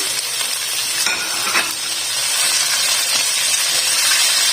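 Chicken and chopped tomatoes fry together in a pan, giving a steady, close broadband sizzle with a few faint stirring clicks and no talking.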